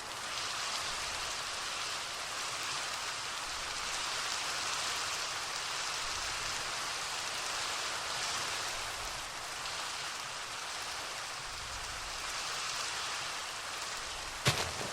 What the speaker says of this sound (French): son de la pluie